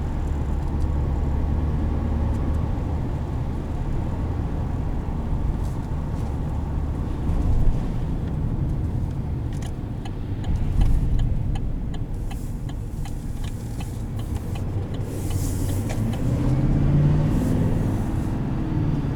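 A 2020 Chevrolet Silverado 2500 Alaskan Edition pickup truck driving on a road, heard from inside as a steady loud low rumble of engine and tires with faint ticking, alone without talk.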